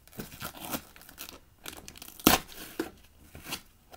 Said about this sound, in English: Now, where do I open this up? More tape. Let's cut.